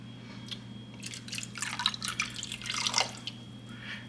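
Fish sauce being poured for pad thai makes a soft, faint trickle and a few light splashes over about two seconds, above a steady low background hum.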